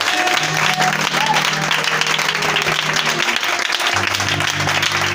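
Church congregation applauding during a service, steady dense clapping throughout with a sustained tone and voices over it.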